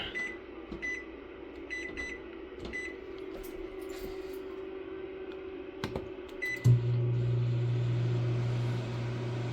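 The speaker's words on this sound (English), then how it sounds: "Let me turn on the microwave in the kitchen." A microwave oven hums steadily with a low drone, punctuated by a few faint beeps, then a louder buzz kicks in near the end.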